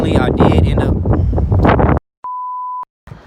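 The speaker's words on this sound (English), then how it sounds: "It is way too windy." Strong outdoor wind buffets the microphone in a loud, rumbling roar for about two seconds, cut off by silence and then a steady electronic beep tone, with a brief burst of wind returning at the end.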